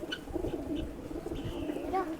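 Pigeons kept on a dairy farm coo softly and repeatedly at close range, low throaty calls with a few faint chirps over a quiet background.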